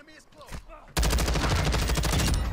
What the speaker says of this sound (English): get that LMG long shot, baby